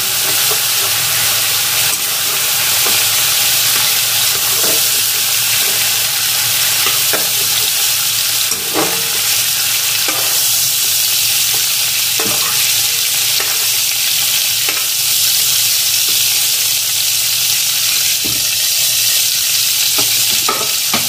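Shrimp fry in oil in a pan while being stirred, a loud, steady sizzle and hiss lasting throughout, with occasional scrapes and clicks of the spatula and no voices.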